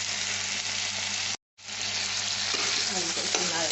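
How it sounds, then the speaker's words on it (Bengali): Potatoes frying with bitter gourd and prawns hiss in a steady, loud sizzle while being stirred, with a brief silent gap near the middle and soft scraping toward the end. "আলুটা একটু নাড়াচাড়া করে দিচ্ছি"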